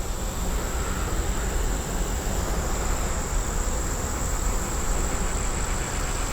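Honey bees buzzing steadily on a hive brood frame during a hive inspection, a dense continuous drone that holds at one level throughout with no voices.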